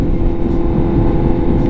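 A 2021 Honda CBR1000RR-R Fireblade SP superbike fitted with a Leo Vince slip-on exhaust holds a steady, loud engine rumble, close and continuous with no talk.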